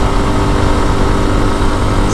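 A Lifan KPX 250, a 249cc overhead-cam fuel-injected single-cylinder motorcycle, cruises in fourth gear near 6,200 RPM, its engine a loud, steady, close drone mixed with rushing wind and no speech.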